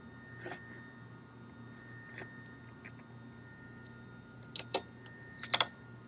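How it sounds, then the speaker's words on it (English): Typing on a computer keyboard during nanofabrication automation software work, with sparse, quiet keystrokes at first and then a few louder clustered taps near the end, with no one talking. "sorry for my slow typing"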